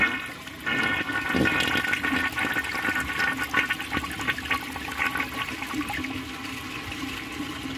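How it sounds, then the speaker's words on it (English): A 1950 Case Camel toilet with a defective bowl rinse flushes loudly up close, a surging rush of water settling into steady swirling and trickling refill. "So I'm just gonna flush it like this so we can see what's wrong with the bowl rinse."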